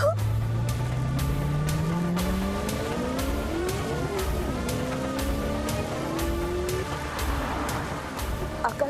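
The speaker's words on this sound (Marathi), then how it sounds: "आकाश, तू खूप जोरात गाडी चालवतोस," A car driven very fast, its engine tone rising in repeated sweeping climbs as it accelerates and shifts, loud and continuous throughout, with faint tire noise and no talk over it.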